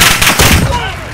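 A brief, loud burst of gunfire in Call of Duty: Modern Warfare, close and sharp with a booming tail.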